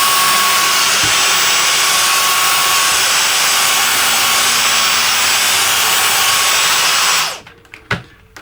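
A handheld electric air duster runs along a PS5 Pro fan's fins with a loud, steady whooshing whine close by for several seconds, then switches off, followed by a few faint knocks.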